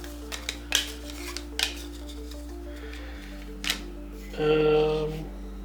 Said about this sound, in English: I will shuffle these tiles.